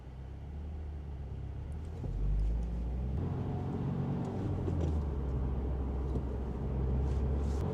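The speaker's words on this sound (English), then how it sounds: "I just use a blip to rev-match the downshift by myself without putting all this pressure on the clutch." A manual car's engine rumbles low and steady, then its revs briefly swell as the throttle is blipped to match a downshift from fourth to third, heard from inside the cabin with no talking.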